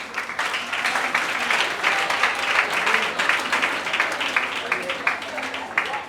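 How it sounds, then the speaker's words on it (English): A wedding ceremony crowd claps for the groom, Samuel, with dense, sustained applause holding steady for several seconds. "open a clap for Samuel now"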